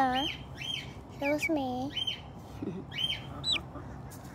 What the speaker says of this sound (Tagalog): Mabait din to na klase na manok.